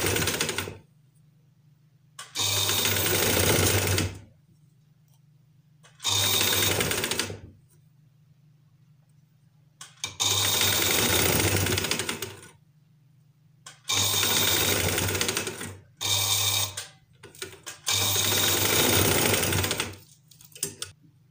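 Sewing machine stitching piping onto a frilled fabric sleeve in short bursts of rapid, close mechanical rattling, with quiet pauses between runs.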